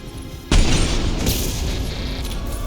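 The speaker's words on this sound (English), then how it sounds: "Firing an impact shot." A sudden loud boom from an impact shot fired in Mass Effect 2, followed by a sustained rumbling, crackling tail of battle noise.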